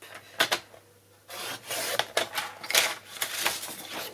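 Paper being cut for a scrapbook album, a series of short rasping and scraping strokes with small knocks, close and fairly loud, with a brief quiet pause near the start.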